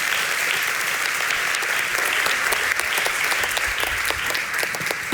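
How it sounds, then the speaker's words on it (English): A festival audience applauds to welcome a speaker onstage, dense sustained clapping from a sizable crowd, steady and loud from start to finish. "please give her a warm applause"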